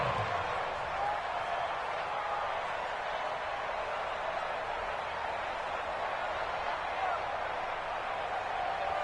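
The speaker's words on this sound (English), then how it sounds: "the crowd getting into it as we come up on a big 3rd down" Stadium crowd in a PS4 football game, a broad, continuous roar of cheering held at a steady loud level for the whole stretch, with no distinct voices.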